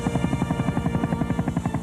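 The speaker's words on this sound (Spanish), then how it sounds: "En la bahía de Boise, los helicópteros continúan el trabajo donde los aviones lo dejan" Helicopter flying over Boise bay, its rotor beating in a steady fast chop with a humming engine tone underneath, loud and close throughout without a break.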